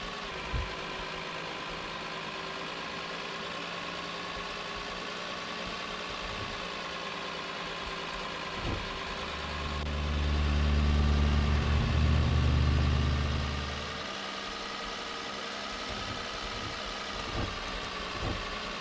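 A car engine idles in the video game Streamer Life Simulator with a steady low hum that swells louder for a few seconds midway, then settles back to an even idle.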